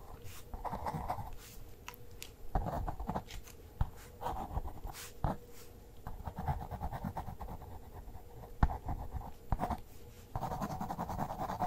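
Pencil scratching and scribbling on paper while sketching a portrait by hand, close and soft, with short bursts of strokes separated by brief pauses across the whole stretch.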